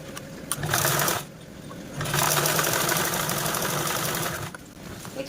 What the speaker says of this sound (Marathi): आता आपण इथे अजून एक फोल्ड करून स्टिच करून घेऊया